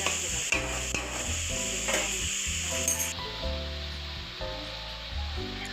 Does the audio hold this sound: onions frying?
yes